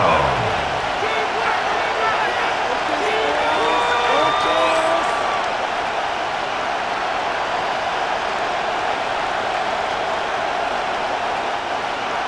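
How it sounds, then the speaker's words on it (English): Stadium crowd in Madden NFL 26 during a Steelers vs Falcons game roars in a steady, dense wash of cheering that holds loud and unbroken throughout, with faint whistle-like tones rising briefly early on. "This crowd into it now."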